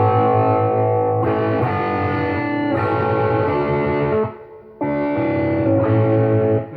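Electric guitar strung with ultra-light Dunlop Reverend Willy 7-38 strings, played through a dirty overdrive tone: loud sustained chords and ringing notes in several phrases, with a brief dip before the playing resumes, no talking.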